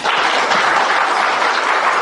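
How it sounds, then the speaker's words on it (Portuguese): Steady, dense applause fills an audience hall at a spiritist seminar, many hands clapping continuously and fairly loud with no talk over it. "Uma salva de palmas."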